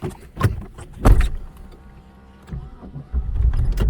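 A 1990 Eagle Talon is started up: a couple of short mechanical bursts, a brief lull, then a rising, sustained rumble as the engine catches, close by with no talking.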